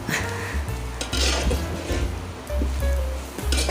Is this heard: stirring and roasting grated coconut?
yes